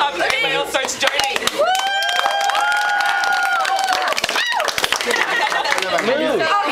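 An audience at a Teachers' Day event claps and cheers, uneven bursts building into a crowd sound, with a voice and whoops close by.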